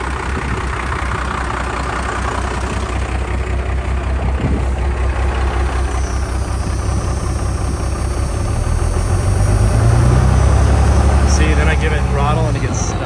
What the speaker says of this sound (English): So I just hope it'll keep running on its own here